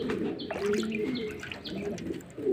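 A pigeon coos repeatedly at close range, soft throaty calls with a few higher chirps, while the bird is held and soaked in water; no talking.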